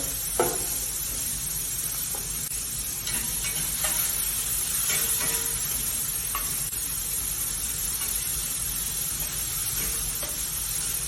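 Bertolino Foods shaved steak sizzles in a pan over medium-high heat, a steady close frying hiss with occasional soft stirring scrapes and no talking.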